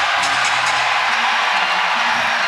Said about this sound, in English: the crowd's going bananas here